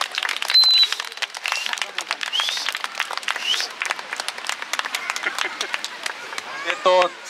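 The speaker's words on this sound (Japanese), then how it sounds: "もう一回あの大きい拍手をお送りください" An audience at a children's shigin poetry-dance recital gives a sustained round of applause, a dense patter of many hands with a few louder bursts and some faint voices underneath.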